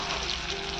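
Onions sizzle steadily in a hot pan of oil while a chicken dish is cooked, a close, constant hiss with no pauses.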